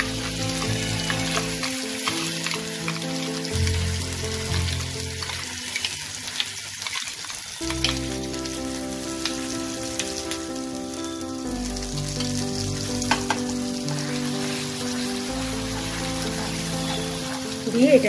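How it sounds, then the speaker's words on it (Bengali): Pointed gourd paste fries in oil tempered with black cumin seeds, giving a strong continuous sizzle with repeated stirring scrapes and clinks throughout, loud and close. "এটাকে তেলে নাড়াচাড়া করবো"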